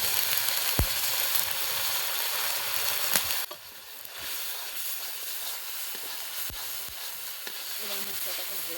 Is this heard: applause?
no